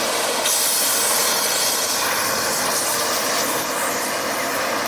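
An oxy-fuel cutting torch cuts steel on a box-store log splitter, a loud continuous close hiss with a steady roaring rush that never lets up, with no talking.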